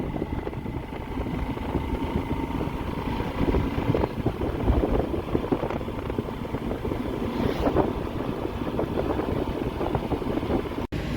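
A John Deere tractor engine runs with its silencer opened, giving a loud, continuous, rough rumble that stays steady throughout, with wind buffeting the microphone outdoors.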